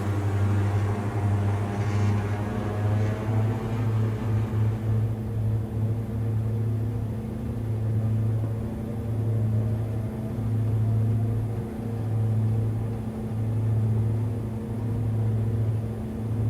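A Diamond DA42 twin-engine aircraft in Microsoft Flight Simulator runs at full takeoff power, a steady loud droning engine hum with a strong pulsing low tone that holds throughout the run.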